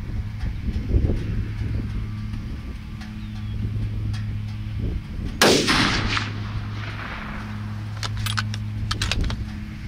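A single rifle shot fired outdoors at a groundhog, a sharp loud crack midway with a brief echoing tail, amid quiet outdoor background and small handling clicks.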